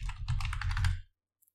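Quick keystrokes on a computer keyboard as a password is typed into a Mac running macOS Big Sur: a dense, close burst of clicks for about a second, then silence.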